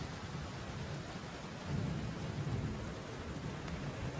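Steady rain pours through a thunderstorm on a stormy night by the sea, with a low rumble of thunder swelling in the middle and continuing beneath the constant hiss.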